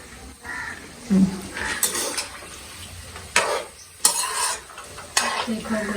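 Gulgule batter being stirred and fried in a pan, with scraping stir strokes, bursts of sizzle and clinking cookware, while a voice talks intermittently.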